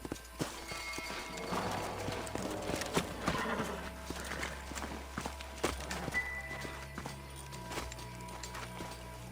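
Horse hooves in the video game Red Dead Redemption clip-clop at a walking pace on hard ground, with an occasional snort and soft background ambience, steady and fairly close.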